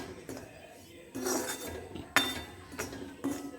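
A metal spoon clinks and scrapes against a pan as wheat is stirred and dry-roasted over a medium flame for gothumai urundai sweets, giving several sharp, irregular knocks over a quiet background.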